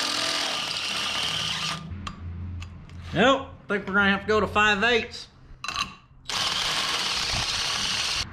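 A Harbor Freight power drill with a large bit whines in loud bursts at the start and end, with someone speaking in between.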